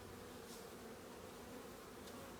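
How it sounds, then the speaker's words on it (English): Bees crowd the edge of a hive, a dense, steady buzzing hum, quiet and continuous throughout, with no voices. "I'm going to have to gently, as it were, gently get bees to leave the edge"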